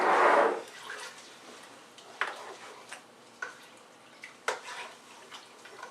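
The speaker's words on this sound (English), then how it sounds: "Let's get this stirred up nice." Turkey brine is stirred in a container, starting with a brief watery swish and then a handful of sparse, quiet clinks and taps against the side at irregular intervals.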